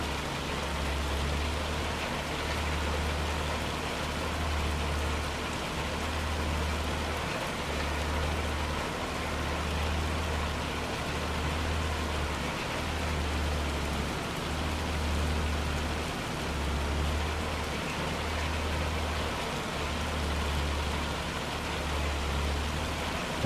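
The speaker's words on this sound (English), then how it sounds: "And this rain is really coming down." Heavy rain in the video game Farming Simulator 25 falls as a steady, even hiss, with a low rhythmic engine-like pulse repeating beneath it.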